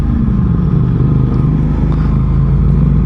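A 2021 Aprilia RS660 sportbike's engine drones loudly and continuously while being ridden, a deep steady rumble with wind noise and no gaps.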